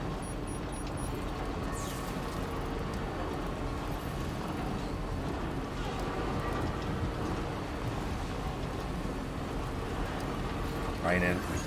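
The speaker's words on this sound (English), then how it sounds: "Raining." Steady rain falling in a video game, a continuous even hiss of dense drops without a break, with a person talking faintly underneath.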